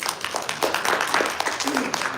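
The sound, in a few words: audience applause for the panel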